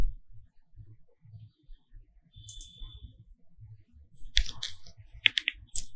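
Computer keyboard keys tapped while entering a mobile number into an online registration form: a quiet stretch of low room noise, then a cluster of crisp, close clicks in quick bursts near the end.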